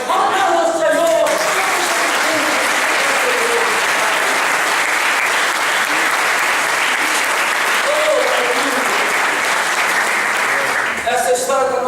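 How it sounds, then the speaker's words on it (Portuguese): Audience applause in a church, a full, steady clapping from a large congregation lasting about ten seconds, with a voice speaking at the start and again at the end. "Aplauda o Senhor."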